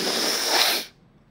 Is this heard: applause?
no